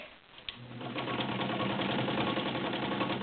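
Heavy-duty all-steel Kenmore Model 50 sewing machine stitching through six layers of coarse woven upholstery with backing, a brief click, then a steady rapid mechanical whirring and clatter, moderately faint and alone.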